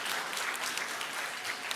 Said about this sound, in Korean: 우리 한번 박수 한번 치시고.